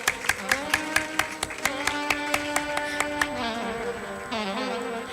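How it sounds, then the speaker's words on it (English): An audience in a university auditorium at an international chemistry symposium claps in a steady, rhythmic beat. Sustained tonal music hums underneath, and the claps fade toward the end. "So let's give a huge round of applause."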